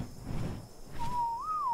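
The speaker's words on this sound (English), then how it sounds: "All right, I'll go ahead and whistle passive." A short whistle command in the video game ARK: Survival Evolved, a single clear tonal note that rises briefly and falls again, heard after a moment of low background game noise.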